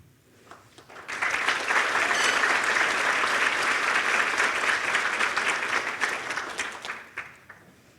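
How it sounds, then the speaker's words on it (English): Audience applause for an award recipient at a women in business breakfast, swelling suddenly after a few scattered claps into a sustained, dense ovation that holds steady for several seconds before tapering off near the end. "Just keep the applause going."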